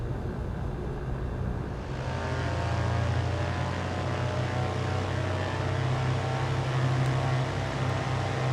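A Britten Norman Trilander BN2 MKIII three-engine propeller plane in Microsoft Flight Simulator 2020 throttles up for takeoff, its steady propeller drone swelling and holding loud with no talk.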